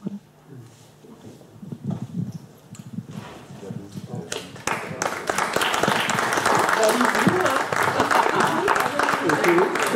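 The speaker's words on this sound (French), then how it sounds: "Auto-applaudissons-nous." An audience applauds together, the clapping starting thin amid murmured voices and then swelling into a loud, dense, sustained round of applause for the rest of the clip.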